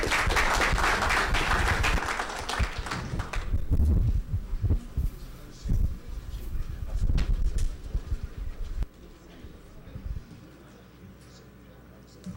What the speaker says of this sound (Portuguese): muito obrigado mais uma vez para o Marcos, uma salva de palmas para ele.